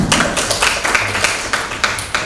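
Brisk applause from a small group, a quick run of overlapping claps at steady loudness.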